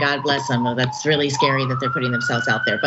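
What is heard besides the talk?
passing emergency sirens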